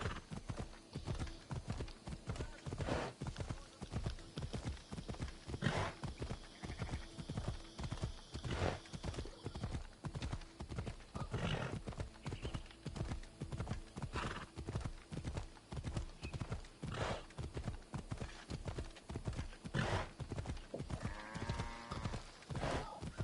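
A horse ridden in Assassin's Creed Odyssey trots with a steady, rhythmic clip-clop of hooves. Occasional whinnies break through the footfalls, which stay moderately close and fairly quiet throughout.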